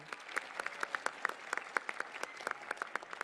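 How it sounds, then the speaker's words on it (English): Applause breaks out at a school music celebration in Australia, with sparse, individually distinct claps spread across the crowd at moderate volume, fairly even throughout, with no talk over it. "I think it deserves a round of applause as well"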